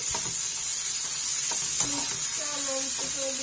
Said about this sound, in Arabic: خلاص انا كده يعتبر اتشوح اهوت كله في السمنه البلدي